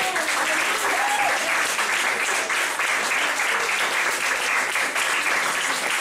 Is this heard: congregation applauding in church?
yes